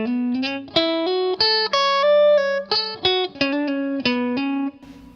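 A melodic guitar run moves through a quick series of picked and hammered notes, clear and close, with one sustained bass note underneath, played alone for about five seconds.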